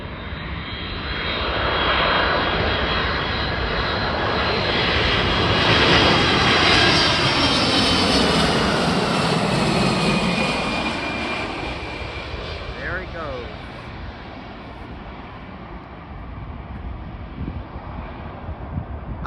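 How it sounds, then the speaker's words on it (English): Loud roar of Boeing 767 jet engines on landing at Newark Liberty International Airport, a sustained broadband rumble that swells and then eases, with a faint voice underneath. "the 767 engines are mad loud"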